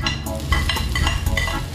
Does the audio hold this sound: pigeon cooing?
no